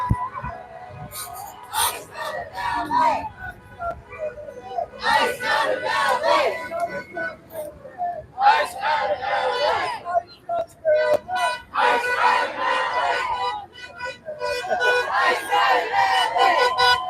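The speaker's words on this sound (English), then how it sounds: "Nice, lively crowd." A lively rally crowd of protesters chants and cheers in loud rhythmic bursts with short pauses, voices blending into a roaring mass at middle distance.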